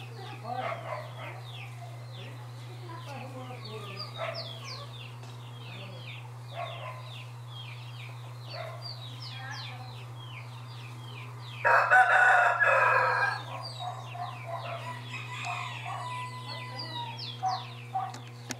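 Chickens on a small rural farm cluck repeatedly with a rooster crowing, a louder burst of crowing and clucking standing out midway, over a steady low hum with scattered bird calls throughout.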